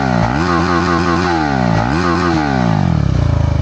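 A KTM Duke 390 with its stock silencer removed revs hard, loud and close, rising and falling in quick throttle blips before settling into a rapid, raspy idle-like burble at the end.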